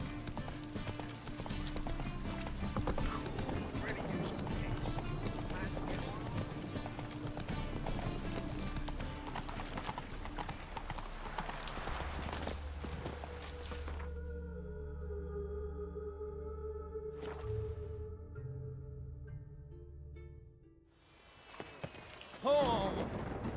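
Horse hooves clip-clop at a gallop in The Witcher 3, a steady busy rhythm running under game music and ambience for most of the stretch, with a voice speaking over it before the sound thins out near the end.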